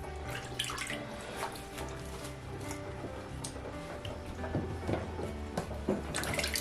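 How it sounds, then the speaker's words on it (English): A tomato being washed under a running kitchen tap, with steady splashing water and occasional louder splatters and handling sounds, close and continuous without talk. "So as I'm washing this tomato"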